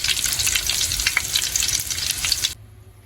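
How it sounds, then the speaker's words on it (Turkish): Bone pieces fry in a pan for Amasya keşkek, giving a close, steady crackling sizzle for about two and a half seconds before it cuts to near silence. "Önce keşkeğimiz için pöçlerimizi kızartıyoruz, kurutuyoruz arkadaşlar."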